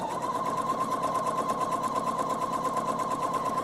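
A sewing machine stitches fabric steadily and close by, running with the needle-down position set and a built-in walking foot engaged, a continuous even whir with no talk.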